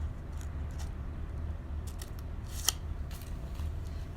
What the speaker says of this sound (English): just cut a little triangle. I'm going to go from the corners. Make two little slits.